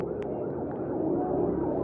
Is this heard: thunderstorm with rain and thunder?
no